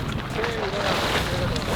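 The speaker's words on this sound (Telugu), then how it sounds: "బాగా వస్తుంది ఆ గాలి ఇప్పుడు" Strong wind gusting past the microphone while a very large handmade kite is flown outdoors, a steady roaring rush that fills the scene for about two seconds with no clear speech.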